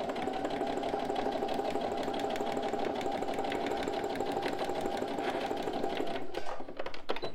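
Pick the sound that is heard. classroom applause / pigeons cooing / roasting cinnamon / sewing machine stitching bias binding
sewing machine stitching bias binding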